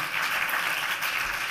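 A brief burst of continuing applause from an awards ceremony audience for filmmaker Antoine Raimbault, a dense wash of clapping heard alone at moderate level.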